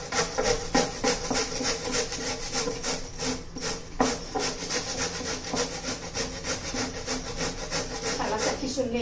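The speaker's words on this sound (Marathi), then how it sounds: "हा दुधी भोपळा पहिला किसून घ्यायचा आहे।" A bottle gourd with its peel left on is grated into long shreds, with a rapid, steady rasping of back-and-forth strokes close by, each one a scratchy burst in a continuous rhythm.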